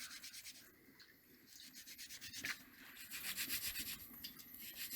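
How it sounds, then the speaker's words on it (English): Radishes being scrubbed by hand for homemade kimchi, making a steady, rhythmic rubbing and brushing sound, close and fairly quiet, continuing without pause and without speech. "So now I'm just scrubbing our radishes."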